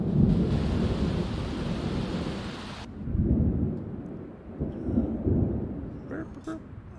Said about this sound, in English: wow, that thunderstorm